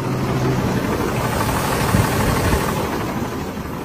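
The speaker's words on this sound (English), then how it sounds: "Got a nice Cummins engine in it." A Cummins diesel engine idles in a 2015 Freightliner 24-foot box truck, a loud, steady low rumble with a slight knocking texture, close by and alone.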